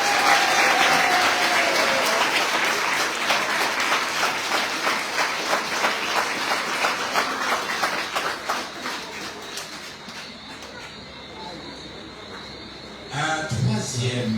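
A cycling tour team presentation crowd in Guadeloupe breaks into loud, sustained applause that thins out and fades over several seconds, with a brief burst of noise returning near the end.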